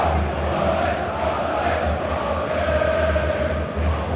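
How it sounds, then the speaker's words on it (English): A stadium crowd at a Brussels derby between RSC Anderlecht and Union Saint-Gilloise applauds for Pelé, a dense, unbroken roar of clapping and voices that holds steady and loud throughout. "Here's 1 minute of applause for Pelé."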